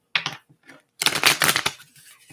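A deck of tarot cards is shuffled close up: a brief riffle, a pause, then a longer crisp burst of flapping, rattling cards.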